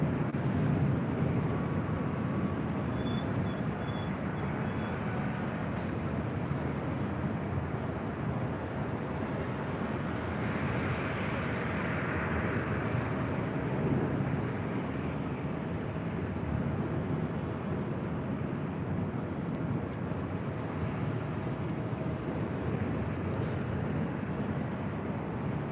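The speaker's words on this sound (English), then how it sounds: "Now taking off is Southwest Airlines 3061, taking off to Las Vegas on a 737-700" Southwest Airlines Boeing 737-700 jet taking off from LAX, bound for Las Vegas, heard as a faint, distant, steady engine rumble with a wind-like wash throughout and no talking.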